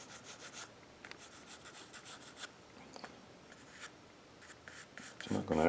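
A knife scrapes and shaves wood while cutting the profile of a carved Native American bust, with repeated short rasping strokes up close, fairly quiet, before a voice begins speaking at the end.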